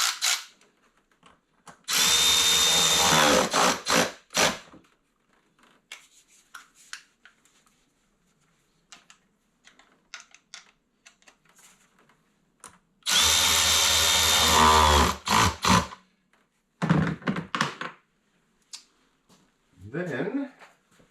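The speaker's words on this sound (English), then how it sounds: "Snug up our hose clamp." A power tool buzzes in two loud bursts of a few seconds each while tightening a hose clamp on a 3.6 L engine in a Dodge Caravan, with quieter clicks and handling sounds between the bursts.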